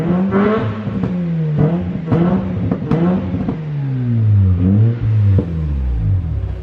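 A 13B rotary engine truck revs repeatedly through its new exhaust, pitch climbing and falling in several loud, close bursts before settling into a deeper rumble.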